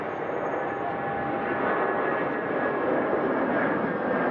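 A fixed-wing plane carrying Queen Elizabeth and Prince Philip departs, its engine a loud, steady broadband roar that holds without pause.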